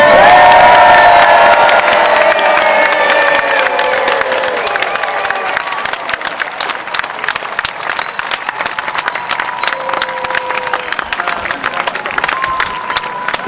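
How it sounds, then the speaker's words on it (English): Large beach crowd at Lyme Regis cheering and shouting loudly for the Red Arrows display team, a dense sustained roar with children's shrieks on top that slowly thins into scattered cheers and claps. "He was so happy with your cheer there, ladies and gentlemen."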